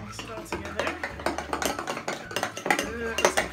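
Glue and shaving cream are stirred together in a bowl for homemade slime, giving continuous scraping and clinking utensil strokes, with voices talking over them.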